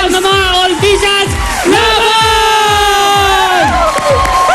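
A school crowd cheers and shouts loudly and continuously, with repeated rhythmic chanting bursts and high whoops from children rising over the roar at a contest.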